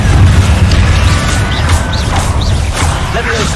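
Confringo fire spell blast in the video game Hogwarts Legacy, a loud, dense booming rumble sustained throughout with crackling debris and faint whooshing effects layered on top.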